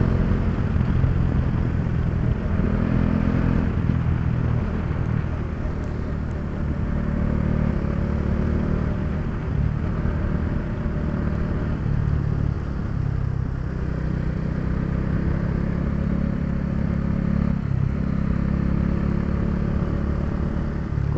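Motorcycle ridden along a rough road near Bhaktapur with engine braking, a steady rumbling engine drone with rattling and clatter running throughout at an even, close level.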